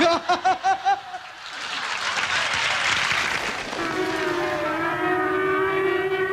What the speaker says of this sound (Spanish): el sonido de esta sirena indica que deben ser apagadas todas las luces.